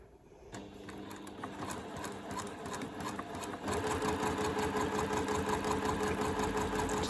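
A sewing machine stitches fabric for a fold-over mini basket, a steady rapid mechanical whirr with fast needle clatter that starts after a brief pause and grows louder and denser partway through, running continuously with no talk.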